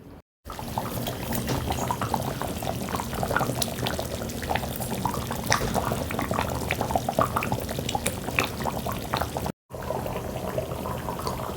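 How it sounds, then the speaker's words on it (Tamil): A village-style eel fish curry bubbles at a boil in a pot, a dense, continuous close bubbling and popping that runs throughout, broken by two brief dropouts. "ஒரு 5 நிமிஷம் கொதி வரட்டும்."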